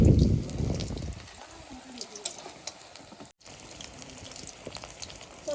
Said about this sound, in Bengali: চপটা আমার ভাজা হয়েছে, লাল লাল করে ভাজা নিচ্ছি